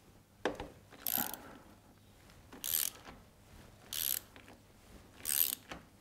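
A ratchet cracks loose the brake caliper bolts on a BMW motorcycle shaft drive, giving four quick bursts of close metallic clicking, evenly spaced, with a few soft knocks in between.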